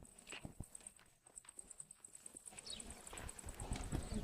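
A horse walks on a riding outing, its hooves clip-clopping faintly and unevenly at a distance amid low background noise.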